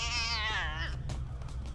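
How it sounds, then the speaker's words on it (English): A single cat meows once, a short drawn-out falling cry heard close and clear, followed by faint background sound. "Cat!"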